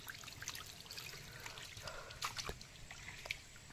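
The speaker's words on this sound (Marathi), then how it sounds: "इथून थोडंसं बाहेरून पण जातं आहे पाणी बाहेर" Spring water trickling out of a small storage tank in a Konkan village, a soft, faint dribble with scattered drips and splashes, outdoors and close by.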